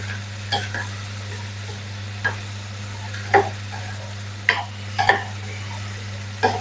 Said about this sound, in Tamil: பீட்ரூட்டை சேர்த்து நல்லா கலந்து விட்டு கொள்ளுவோம் எண்ணெயில கொஞ்சம் நேரம்